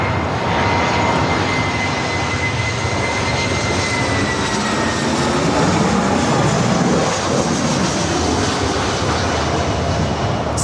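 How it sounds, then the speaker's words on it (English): A Delta Airlines Airbus A319 from Portland arrives at LAX, its jet engines giving a sustained loud broadband roar that swells slightly as it passes close, with no voices present. "2975 coming in from Portland on the A319"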